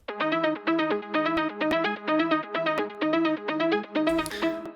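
A layered techno synth arpeggio with low, mid-high and high layers plays in fast repeating bars, loud, full and wide, with a cymbal-like burst entering near the end; no one speaks.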